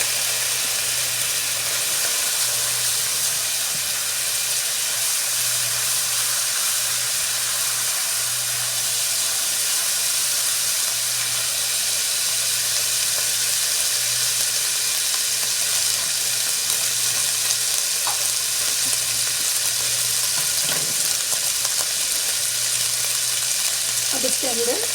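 Cumin seeds sizzle in hot oil in a pan for a chicken tikka masala, a steady close frying hiss that runs unbroken throughout, with a faint low hum underneath and a few light stirring clinks near the end.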